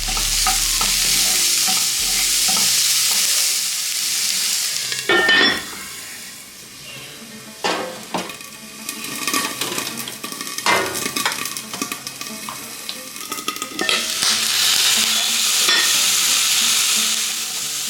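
Chopped shallots, curry leaves, onion and green chilies frying in coconut oil, a loud continuous sizzle broken by repeated stirring clatter and a few utensil clinks, close up with no voices.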